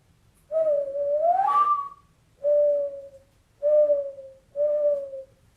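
A human voice imitates a mourning dove's call: one long, rising cooing phrase, then three shorter, steady hoots evenly spaced, each clear and close in a quiet room.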